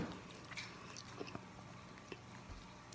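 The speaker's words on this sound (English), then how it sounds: "So let's go ahead and take our first bite." A close, quiet bite into Samyang original hot chicken flavor spicy ramen noodles, followed by soft chewing and a few small crunchy clicks.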